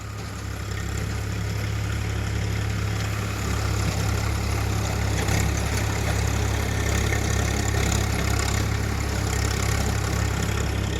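Tractor pulling a rotavator through a field of corn waste, a steady low engine drone with dense broadband churning noise holding constant throughout, close and loud, no talking.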